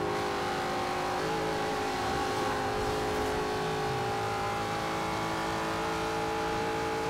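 A Ford Mustang in Forza Horizon 2 accelerates hard toward top speed, its engine a loud, continuous high-revving drone that climbs steadily through the gears without pause.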